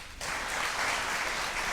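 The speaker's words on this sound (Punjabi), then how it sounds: "ਫਿਰ ਤਾਲੀਆਂ ਵਜਾ ਦਿਓ ਦੋ।" Studio audience on a Punjabi chat show breaking into applause, a sudden dense burst of clapping that starts abruptly and holds steady and fairly loud to the end.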